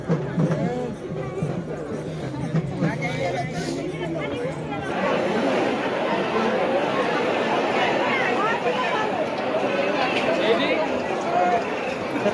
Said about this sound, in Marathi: खतरनाक गर्दी आहे